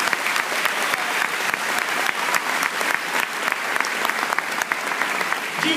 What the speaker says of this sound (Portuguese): Aplauda esse Deus fiel